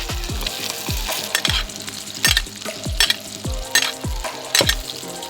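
Salmon fries in garlic butter in a pan, making a steady buttery sizzle with bursts of spitting. Regular low thumps pulse under it throughout.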